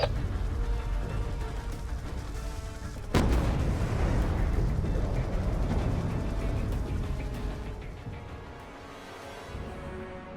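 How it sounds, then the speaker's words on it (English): A ship blows up in the Call of Duty Black Ops 2 campaign: a sudden loud blast about three seconds in, followed by a long rumbling roar that slowly fades. "Kaboom! Ship is down."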